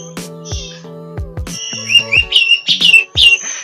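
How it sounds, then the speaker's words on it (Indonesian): Loud, clear birdsong close by at a white-rumped shama breeding farm: rich whistled phrases and rapid chirps from several birds, some overlapping, with brief pauses between calls. "Halo, peternakan murai."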